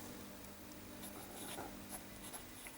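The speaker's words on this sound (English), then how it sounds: "I'll do a writing sample for you" A Kaweco All Sport fountain pen with a medium nib writing on paper with Gerbin Perle Noire ink, a faint, close scratching with small strokes over a low steady hum.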